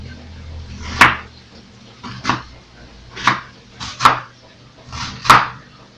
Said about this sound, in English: you cut them into like thin strips, like this